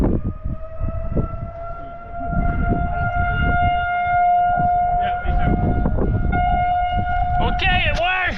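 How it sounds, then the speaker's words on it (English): A wailing air raid siren drones continuously at a steady pitch, loud and sustained, under people talking and clattering nearby, and ends in a falling, wavering tail. "I hate the air raid sirens."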